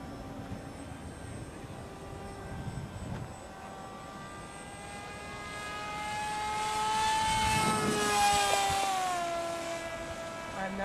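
A homemade model airplane built from trash flies overhead, its small engine buzzing as a thin drone that swells louder as it passes close and then fades.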